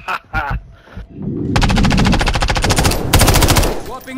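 Sustained automatic weapon fire in the Call of Duty MW3 beta shooter rattles in rapid bursts after a few short opening shots, loud and close, continuing almost without a break.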